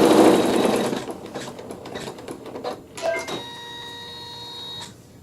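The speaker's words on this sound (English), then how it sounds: "with a neutral thread, we're going to sew a tack down stitch that will only stitch right there." A sewing machine runs a short tack-down stitch through quilting fabric with neutral thread, a loud close burst of rapid whirring that slows into a few separate stitches, then a faint hum.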